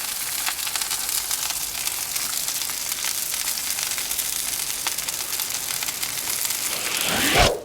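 An egg fries in burger fat in a pan with a steady crackling sizzle throughout, with a brief louder clatter near the end.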